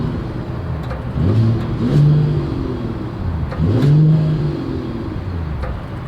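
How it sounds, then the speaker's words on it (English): A Mercedes-Benz GLS 450 engine revs twice through its exhaust, each rise swelling and falling back to a steady idle, heard close and alone. "As always, here is that exhaust clip."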